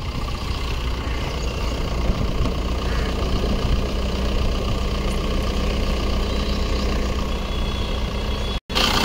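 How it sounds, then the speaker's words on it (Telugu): A 2019 Maruti Baleno Zeta diesel engine idles steadily and close by, a continuous low rumble with an even beat that holds at the same level throughout, cut only by one brief dropout near the end. "స్టార్ట్ చేస్తున్నా. ఇంజన్ సౌండ్ వినిపిస్తాం మీకు."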